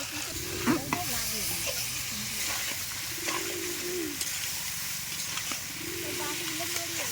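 Chicken meat stirred as it fries in its own oil in a pot, a steady sizzle with occasional scraping stirs, while a nearby bird coos softly several times in the background.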